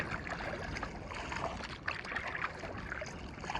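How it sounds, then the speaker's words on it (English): A kayak paddled across open water below a distant mountain, giving a steady, close wash of splashing and trickling water with small gurgles and no voices. "And yet I'm kayaking in my kayak."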